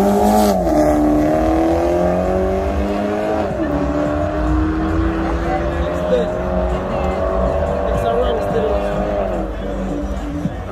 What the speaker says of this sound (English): So we have a Marquex versus the BMW